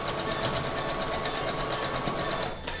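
An electric sewing machine runs steadily, stitching rows of scrap fabric quilt pieces for a pixelated Halloween bat quilt block, a close continuous whir with even rhythmic pulses and a brief lull near the end.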